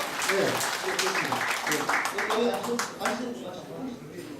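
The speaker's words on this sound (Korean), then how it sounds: "이 양주분에게 격려와 축하의 박수를 힘차게 보내주기 바랍니다" Applause from a crowd at a Korean overseas war veterans' association general assembly, moderately loud and continuous, with a voice speaking over the clapping.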